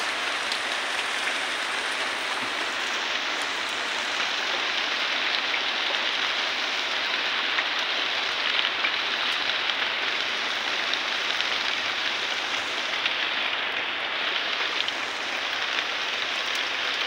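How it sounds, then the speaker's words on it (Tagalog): Steady rain falls on a farm, a dense, even hiss of drops striking surfaces that continues without a break and with no voices. "Basta ulan ay uulan talaga."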